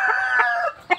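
Chickens, a Kabir and a white-and-brown Rhode Island crossbreed, give a drawn-out, close crowing call followed by a short sharp cluck.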